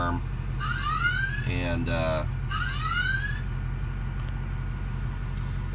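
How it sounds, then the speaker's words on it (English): A car alarm sounds in a run of rising electronic chirping sweeps, three clear bursts close together, then falls silent over a steady low hum. "I'm not going to make y'all listen to that alarm all day long."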